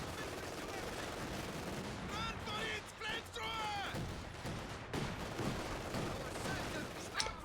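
Units trading weapons fire in a Company of Heroes 2 real-time strategy battle, a dense, continuous crackle of gunshots and bursts running the whole time beneath steady commentary voices.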